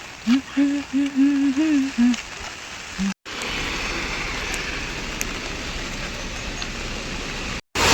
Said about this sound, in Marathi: पाऊस आहे त्याच्यामुळे